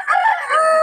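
A pumpkin sweater gamecock rooster crows loudly and close, one full drawn-out crow with a raspy, wavering tone filling the short moment, with no talk over it.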